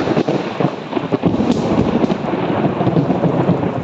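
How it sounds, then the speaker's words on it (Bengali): Thunder rolls through a rainstorm at Gopegarh Eco Park in Midnapore, a loud, continuous rumbling roar with heavy rain throughout and a sharper crack around the middle. "হঠাৎ করেই আবার মেঘের গর্জন শুরু হলো"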